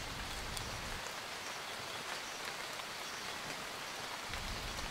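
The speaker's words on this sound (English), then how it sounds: "I just felt the raindrops." Steady, heavy rain pours during a storm as a dense, even hiss of drops hitting surfaces, continuous and close with no voices.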